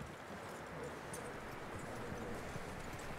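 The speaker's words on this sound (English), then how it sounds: "It is a beautiful horse." Steady clip-clop of a horse's hooves from the video game Red Dead Redemption 2, a faint even rhythm under a constant background wash.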